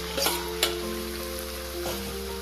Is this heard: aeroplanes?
no